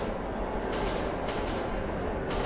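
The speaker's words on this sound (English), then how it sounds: "Oh, nice, a ghost train." Ghost train rumbling through a tunnel in the Metro 2033 video game, a steady dense roar of rolling rail noise with faint rhythmic surges, continuous throughout with no speech.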